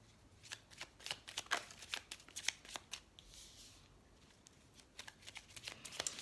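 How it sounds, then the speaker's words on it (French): Tarot-style cards being handled and laid out for a card reading, a quick series of crisp flicks and soft slaps on a table, close and fairly quiet, with a brief pause midway. "on va mettre les cartes comme ça, hop, dans le sens où elles ont sauté"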